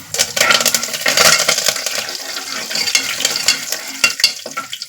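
Curry leaves crackle and sizzle loudly in hot oil for a tomato pulao base, a dense steady frying hiss with occasional stirring clinks and bursts, close and alone with no talking.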